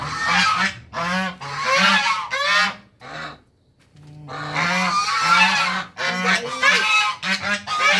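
Ducks quack and honk in loud, continuous, close-up calls with only a brief pause in the middle, and there is no speech.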